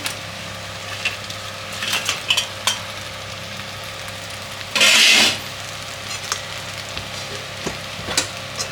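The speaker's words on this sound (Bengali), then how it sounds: "এখন মাছের মাথাগুলো যে ভেজে রাখছিলাম আমি সেগুলো দিয়ে দিব এখন" Fried fish heads stirred with a spatula into rice frying in a pan for Bengali muri ghonto, a steady low sizzle with scraping and clinks, and one loud hissing burst midway.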